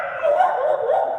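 A human voice imitates a dog's whining, yelping bark as part of a mock dog and cat fight, with a short nasal rising and falling cry held for about a second.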